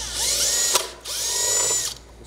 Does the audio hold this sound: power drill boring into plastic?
yes